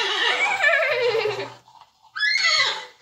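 A human voice imitates a horse's whinny, a wavering high neigh, then a short pause and a second rising whinny.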